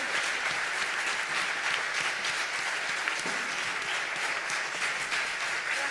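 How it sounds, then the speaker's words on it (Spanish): Concert audience applauding a performer taking the stage, a sustained wash of many hands clapping at even loudness for several seconds, no voices over it. "Un aplauso para ella."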